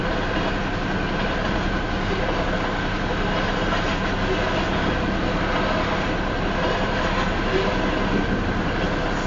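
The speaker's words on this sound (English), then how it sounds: "That was kind of a short train right there." A southbound Union Pacific tanker train rolls past on the Spine Line south of Elkhart, Iowa, a loud, continuous rumble of wheels on rails with a steady rhythmic clatter throughout, close by and without pause.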